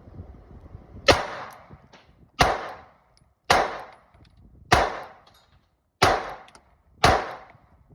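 Six sharp Springfield Hellcat pistol shots fired one at a time at bricks set up outdoors, spaced about a second apart, each a loud crack with a short decaying tail, no talking.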